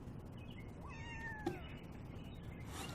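Kittens meow in a few thin, rising cries over a steady background hum, fairly faint and with no talking.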